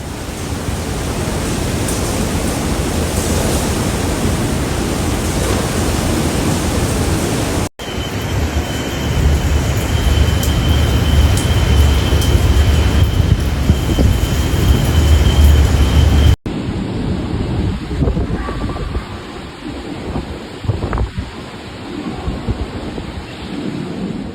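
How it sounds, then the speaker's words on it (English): Ex-Tropical Cyclone Alfred on the Gold Coast at Surfers Paradise: a constant heavy roar of storm surf and strong wind buffeting the microphone, loud and close, across several back-to-back segments with no voices. "Powerful winds also rip up trees and damage power lines in Surfer Paradise, Queensland"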